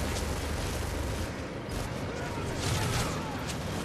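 Gunfire in Modern Warfare 3 crackles in dense, continuous bursts, a loud rattling barrage of shots aimed at the player that fills the whole stretch with only brief dips in intensity.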